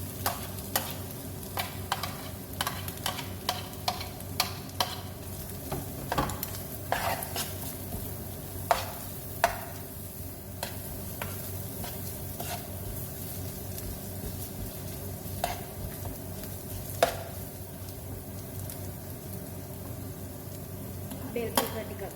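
Carrots stir and fry in a pan for pasta, a soft steady sizzle running throughout while a utensil scrapes and clacks against the pan at irregular intervals, close and fairly quiet.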